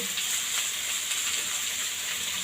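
Mango pieces and turmeric powder frying in a pan, a steady close broadband sizzle with faint stirring scrapes, no voices.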